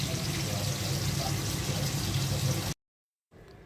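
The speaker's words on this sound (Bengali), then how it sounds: "মাংসের মধ্যে পানি দেওয়া হলো" Water poured into a cooking pot of fresh sacrificial (Qurbani) meat, with three whole dried chillies, on a home stove, a steady dense splashing gush that runs for nearly three seconds, stops abruptly into silence, then a faint low rustle returns.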